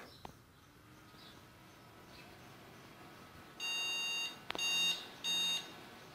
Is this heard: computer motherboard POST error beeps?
yes